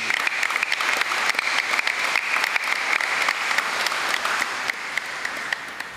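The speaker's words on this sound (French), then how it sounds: "Je vous demande d'accueillir et d'applaudir le révérend père." Congregation at a Sunday Mass applauding the reverend father, dense sustained clapping from many hands that continues steadily throughout, easing slightly toward the end.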